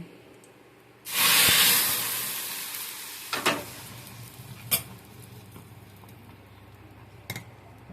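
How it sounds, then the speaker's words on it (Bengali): Hot oil tempering poured into cooked dalia khichuri sets off a sudden loud sizzling hiss that fades over a few seconds, followed by a few faint clinks, with no voice. "তেলটা গরম হয়ে গেছে, ফোড়নটা পুড়ে গেছে, এবার আমি ডালিয়ার মধ্যে ঢেলে দিচ্ছি।"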